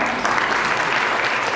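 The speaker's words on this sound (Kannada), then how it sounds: "ಜೋರದ ಚಪ್ಪಾಳೆ ಬರಲಿ." A crowd applauds at a product launch event for a payments app, with dense, even clapping held at a steady level throughout, no voices rising above it.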